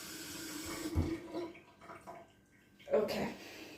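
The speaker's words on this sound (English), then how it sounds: "let me wash my hands" Tap water runs into a kitchen sink as hands are rinsed after chopping onions for honey beef udon, a soft steady wash with a louder splash near the end.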